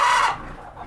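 A brand-new mother hen gives a short, close burst of clucking, a bright, loud call that fades quickly into softer sounds from her baby chicks.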